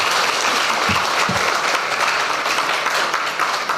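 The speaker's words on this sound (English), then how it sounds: "I didn't see my clubs clapping." Clapping applause from an audience at a live Ghana Premier League press event, loud and continuous for several seconds with dense overlapping hand claps.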